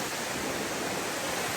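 Water roaring down at Hebbe Falls, a steady, loud broadband wash of spray that fills the whole moment with no breaks and no voices.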